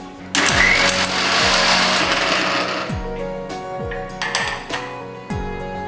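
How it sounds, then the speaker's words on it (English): A mixer grinder grinding oats starts loudly and runs as a steady high whir, with a rhythmic rattle from the jar throughout. "I will grind the oats in a mixer grinder."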